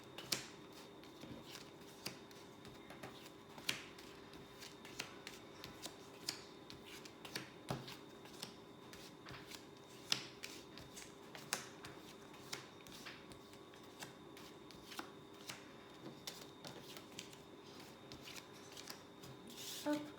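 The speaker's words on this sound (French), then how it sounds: "Donc, tirage à 15 cartes." Tarot cards being shuffled and dealt out for a fifteen-card spread, with soft papery riffles and light slaps of cards landing at an irregular pace, faint and close with no talking.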